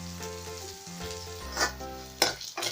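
Onions softening in a pan for a Tamil egg curry, a quiet steady sizzle beneath soft background music, with a couple of brief scraping stirs near the end.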